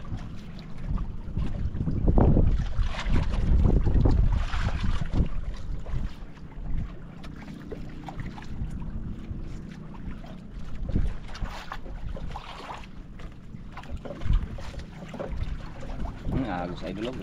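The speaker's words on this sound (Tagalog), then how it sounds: "Lalo lumakas ang hangin, lalakas din ang agos." Strong wind buffets a small fishing boat at sea, a loud roaring rush on the microphone with gusts strongest early, mixed with water and hull noise, while people talk intermittently over it.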